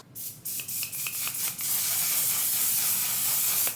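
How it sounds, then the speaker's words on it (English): A can of One Size On Till Dawn waterproof makeup setting spray hisses close by, starting with several short bursts and then holding one long, steady continuous spray. "This is when I like to go ahead and spray my setting spray"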